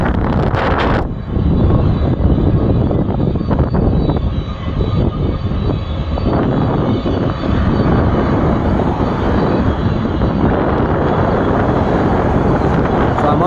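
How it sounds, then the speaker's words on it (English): Engines of a long freight train loaded with gravel rumble past close by, a loud, continuous broadband roar mixed with heavy wind buffeting on the microphone. "Here's the train."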